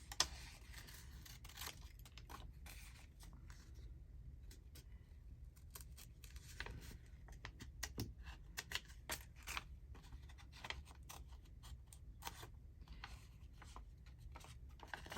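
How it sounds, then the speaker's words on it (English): Big scissors snipping around shapes in paper at a craft table, quiet and close, with irregular clusters of short crisp cuts and faint rustling as the sheet is turned. "I want to fussy cut it. Oh my goodness, with the big scissors."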